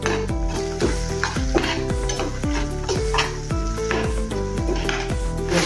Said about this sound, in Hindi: अभी मसाले को अच्छे से भुनेंगे हम थोड़ा सा।